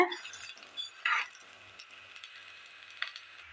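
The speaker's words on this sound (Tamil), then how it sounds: "மல்லியை நல்லா ஒரு ஓட்டு ஓட்டிக்கலாங்க நல்லா மொறு மொறுன்னு ஆகிற மாதிரி நம்ம வந்து வணக்கிக்கலாம்" Coriander seeds dry-roasted and stirred in a pan for mutton curry, with quiet scraping and rattling and a couple of sharper clinks of the spoon against the pan, close and soft.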